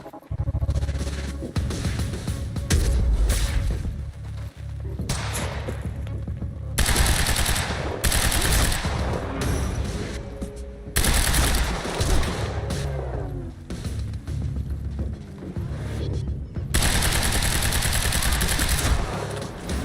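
Sustained video-game gunfire from Quantum Break, with a sniper providing cover: dense bursts of automatic fire and shots come in loud repeated volleys with brief lulls between them, continuing throughout.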